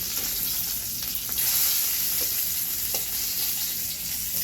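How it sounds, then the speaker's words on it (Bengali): Food fries crisp in a pan with a constant, dense sizzle and crackle close at hand, a few soft scrapes of stirring rising briefly above the hiss. "কড়া করে ভাজছি"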